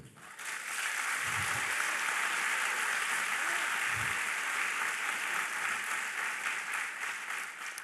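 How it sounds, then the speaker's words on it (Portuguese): A church congregation applauds in praise, a dense, steady wash of many hands clapping that fills the space for nearly the whole stretch, then eases off slightly toward the end. "Dá um aplauso para o Senhor"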